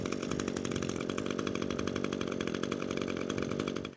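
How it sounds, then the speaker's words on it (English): A gas string trimmer engine runs at a steady high-pitched buzz after starting, loud and close, holding its even rasp for about four seconds before cutting off abruptly at the end. "let's go ahead and start the machine"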